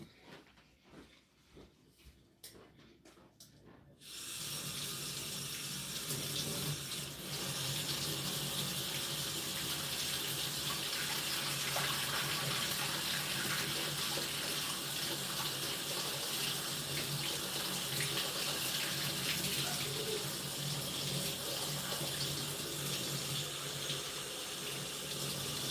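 Water gushes from a tap into cups in an old café kitchen. After a few quiet seconds of faint clinks, it turns on and keeps running as a loud, steady, close stream to the end.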